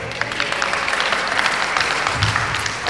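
An audience at an Indonesian Independence Day celebration breaks into a big round of applause, dense sustained clapping heard up close and loud for a few seconds, with no voices over it.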